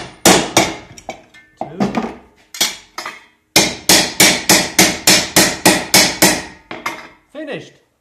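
Rapid, sharp hammer blows striking a metal hole punch, in two bursts of steady strikes, loud and close, with a brief spoken word between them.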